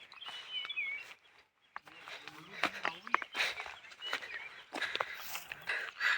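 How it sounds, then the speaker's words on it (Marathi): Birds call and chirp in a cashew orchard during the rainy season, many scattered short calls near and far, with rustling footsteps and some talk mixed in. "पक्ष्यांचा आवाज बघा किती आहे."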